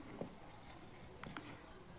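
Pen writing on paper during a Hindi class 10 maths lesson, a few soft scratchy strokes at close range, faint and brief, with no talking.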